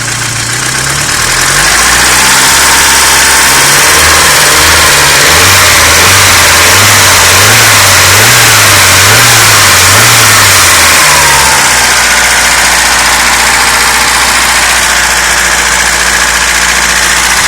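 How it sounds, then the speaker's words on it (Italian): A loud car engine runs close up, revving up and down repeatedly in rising and falling swells before settling back to a steady idle. "Apriamo il motore. Questo è il motore."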